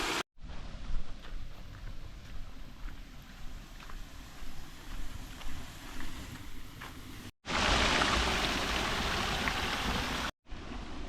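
A stream of clear water flows steadily nearby with a soft, continuous rushing wash that swells louder and brighter for a few seconds near the end.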